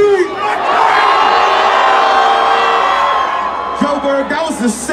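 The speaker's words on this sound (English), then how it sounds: "I need y'all to scream wherever you came from as loud as you can tonight" A large concert crowd at a world tour show in Johannesburg screams and cheers loudly and continuously for about four seconds, then fades as voices shout over the tail end.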